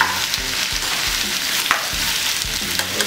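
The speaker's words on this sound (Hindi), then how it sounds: "1/2 किलो चिकन प्याज के अंदर, और इसको प्याज के साथ मिक्स कर लेंगे" Chicken and onions being stirred in a pan for rogan josh, with a steady sizzle of frying and repeated scraping stir strokes at close range, no talking.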